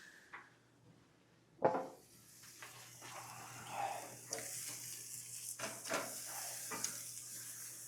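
Steak sizzling on a charcoal grill in freezing cold weather, a soft, steady sizzle with occasional clanks and scrapes from flipping.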